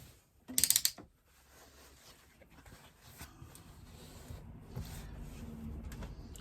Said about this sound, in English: stitching together 3/8 of an inch seam allowance back stitching